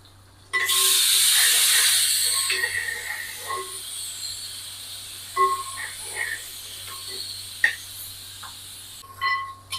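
Onions and green chillies hit hot oil for a rustic mutton kadai, giving a loud, bright sizzle that bursts in early, hisses steadily for a couple of seconds, then fades into quieter crackling with a few light clinks.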